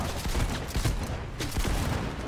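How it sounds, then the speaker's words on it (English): Gunfire and a heavy blast from an exploding barrel in the video game Cyberpunk 2077, loud and dense with several sharp bursts in a continuous rumbling wash of combat noise. "Oh, that was an exploding barrel"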